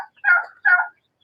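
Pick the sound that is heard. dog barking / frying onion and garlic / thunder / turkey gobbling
turkey gobbling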